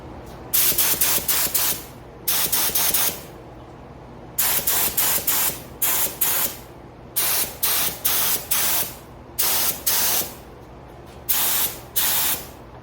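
A spray gun hisses paint onto a 1976 Trans Am in repeated short bursts, steady and close, with brief pauses between each pull of the trigger.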